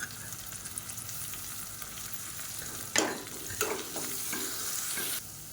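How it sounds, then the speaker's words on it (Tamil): Onions sauté in a pan with ginger garlic paste, green chillies, mint and coriander for biryani, a soft steady sizzle broken by several louder scraping stirs of a spoon near the end. "வெங்காயம் லேசாக வதங்கினதும் 1 டேபிள் ஸ்பூன் இஞ்சி பூண்டு பேஸ்ட்டு சேர்த்து வதக்கிக்கலாம்."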